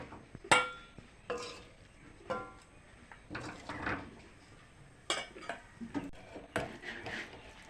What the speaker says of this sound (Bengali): পেঁপে ভাজাটা হয়ে গেছে, এখন নামিয়ে নেব বাটিতে।